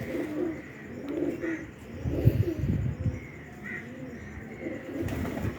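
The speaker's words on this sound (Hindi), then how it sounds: "तीसरा माशाल्लाह बड़ा कमगर कबूतर है।" Soft, low pigeon cooing repeats in rolling phrases, fairly close but quiet, with faint chirps and a hum in the background.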